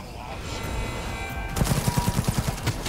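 Smart-bullet gunfire in the video game Cyberpunk 2077 breaks out as a rapid burst of shots after a moment of rumbling ambience, loud and evenly spaced.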